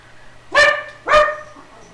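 A dog gives two sharp, loud barks about half a second apart, close by, in an otherwise quiet room with no talking.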